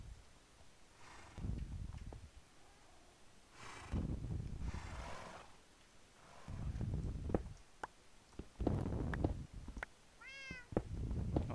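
Pet cat Schoki snuffling and snorting close to a microphone in several short breathy bursts, with a small meow-like squeak near the end and quiet pauses between.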